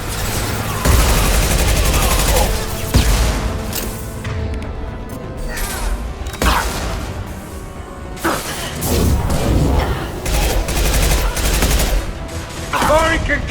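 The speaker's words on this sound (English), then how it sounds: "Firing concussive shots!" Gunfire and concussive shots in Mass Effect 2, a loud near-constant fusillade of rapid shots and heavy thumps with crashing impacts, fighting pressing on throughout and voices calling out over the combat.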